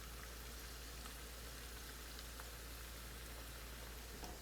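Homemade zucchini fritters frying in a pan, a dense, steady crackling sizzle with scattered pops, fairly quiet and heard alone.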